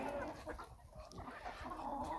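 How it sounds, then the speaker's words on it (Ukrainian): Chickens and roosters in a backyard flock, young hens laying, cluck in a soft, continuous murmur of overlapping calls at moderate distance. "Отакі от наші півники. Ну і курочки, звичайно, молоді несуться повним ходом"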